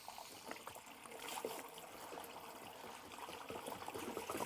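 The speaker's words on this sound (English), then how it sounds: "See how that's not really coming out properly? It's splashing a lot." Waste from a motorhome cassette toilet splashing and trickling as it is tipped and emptied, a faint, continuous irregular spatter of liquid with no voices.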